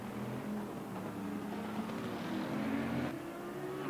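The engine of a 2018 Bentley GT3 race car drones in a racing video game, a steady, fairly quiet whine that climbs gradually in pitch as it accelerates.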